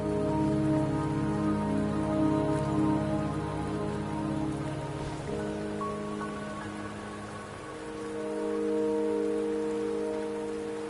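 Steady rain falls in a mountain setting in the video game Wuthering Waves, a continuous even patter heard under a sustained musical drone and tones, with no talking.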